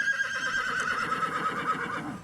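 A horse at an outdoor field days event lets out a loud, drawn-out whinny that wavers and slowly falls in pitch over about two seconds, close and clear with no talking.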